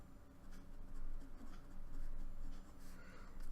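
Marker or chalk scratches across a classroom board in short strokes and taps, close and fairly quiet, forming a brief burst of writing.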